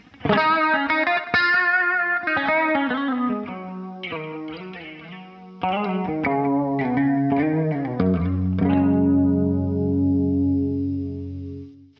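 Clean electric guitar through a vintage Boss CE-1 chorus pedal, several chords and picked notes with a slight shimmering wavering, ending on a long ringing chord.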